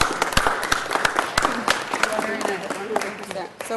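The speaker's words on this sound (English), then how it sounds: "Let's give her a big round of applause." Scattered clapping from a small crowd at a city council meeting, sharp uneven claps running under steady talking voices throughout.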